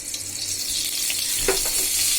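Oil is poured into a frying pan just used for frying pumpkin wadi (dried lentil dumplings), giving a short liquid splash and a light sizzle that swells briefly midway, over a soft kitchen background.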